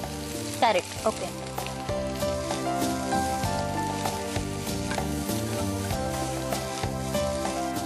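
Onion, cabbage and carrot fry in a pan with a soft, continuous sizzle and scattered crackles, partly masked by tonal background music; a voice speaks one brief word near the start.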